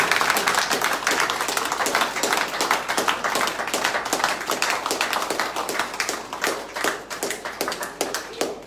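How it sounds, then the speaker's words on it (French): A church congregation at a Sunday service applauds: many hands clap in a brisk, dense, steady rhythm that fills the room, with a faint voice occasionally underneath. "Acclamons votre frère."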